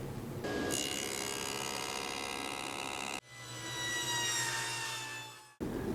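A table saw rips hardwood strips from a blank for cabinet shelf edging in two long passes, each a loud, steady whining cut that stops abruptly with a short gap between them.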